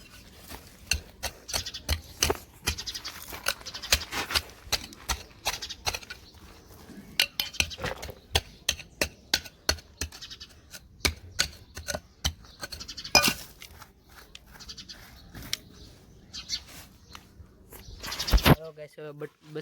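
A small hole dug in soil to bury a dead sparrow chick, with repeated scraping and clinking strikes in an uneven rhythm, heard close under talking and a few bird chirps.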